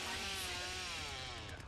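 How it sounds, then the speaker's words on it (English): A chainsaw in the video game The Texas Chain Saw Massacre drones steadily with a buzzing, wavering engine whine, fairly faint and distant, running continuously without pause. "I can hear the chainsaw."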